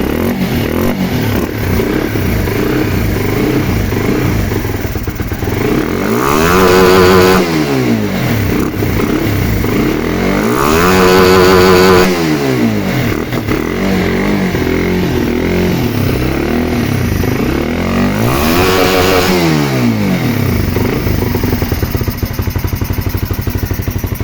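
An RS150 motorcycle engine fitted with an Aveta SVR180 throttle body and Y15 injector idles loudly nearby, then revs up and down in three separate swells, each climbing and falling in pitch.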